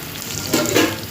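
Marinated chicken and onions fry in a pan for restaurant-style biryani, giving a loud, close, continuous sizzle that swells briefly midway as the pieces are stirred.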